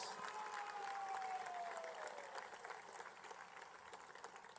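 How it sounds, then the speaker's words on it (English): A crowd at a presidential swearing-in ceremony applauds, a faint, distant, steady patter of many hands that fades slightly toward the end, with a thin whistle-like tone gliding downward early on. "Please give the leadership of our party and the supporters a resounding round of applause."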